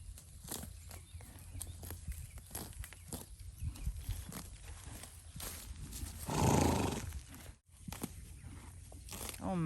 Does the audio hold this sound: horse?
yes